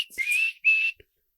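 A person whistles in imitation of a Bigfoot call: two sustained, slightly rising whistles separated by a short gap, then a faint click, close and clear with no talk.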